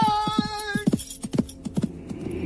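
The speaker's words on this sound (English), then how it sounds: "My mighty horse must be ridden swiftly." A comedic fantasy audio drama puts a horse in motion: a brief whinny, then a quick irregular run of hoof clops, close and distinct, with no talking.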